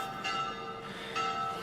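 A chapel bell ringing at high noon, giving a sustained, shimmering metallic tone with overlapping resonant partials that swell again partway through, heard alone and fairly steady.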